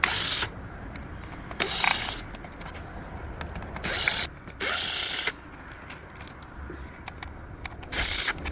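Screwdriver ratchet clicks rapidly in repeated bursts while Phillips screws are backed out of the rear panel of a Ford F-150 factory radio, close and fairly loud, with short pauses between screws.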